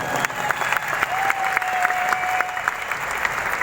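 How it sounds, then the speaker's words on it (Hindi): An audience at a wellness company meeting in Delhi claps loudly and continuously, a bright, dense burst of applause with a few scattered cheers, sustained from start to finish. "एक जोरदार ताली आप लोग अपने लिए बजा दीजिए"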